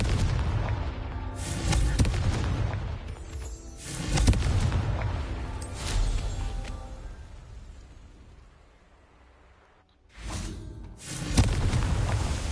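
Confringo blasting spells in the video game Hogwarts Legacy, heard as several loud, rumbling booms with whooshing tails. A short lull comes before a final burst.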